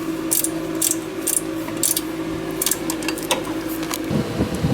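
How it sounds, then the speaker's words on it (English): A ratcheting combination wrench clicks as bolts are tightened on a stainless steel fan shroud of a DeLorean with high flow cooling fans. It gives close, crisp bursts of ratchet clicks in short irregular runs over a steady background hum. "I think with a ratcheting combination wrench, it should actually make the job a lot easier"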